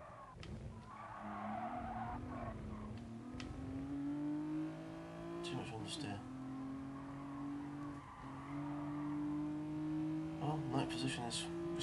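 A Renault Clio Sport racing in GT Sport, its engine droning and rising in pitch through the gears, with tires squealing and skidding through understeering corners, loud and continuous.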